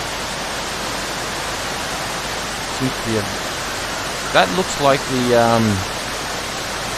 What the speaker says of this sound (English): There's a waterfall here.